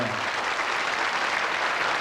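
Steady, dense applause from a large crowd at the close of the Miss France 1991 pageant, a continuous even wash of clapping that holds at one level throughout with no voices standing out.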